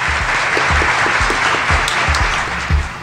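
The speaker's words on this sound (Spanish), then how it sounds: "con una calurosa ronda de aplausos por parte del equipo técnico." A crowd applauds steadily and fairly loudly, many hands clapping together in a continuous wash that barely varies across the clip.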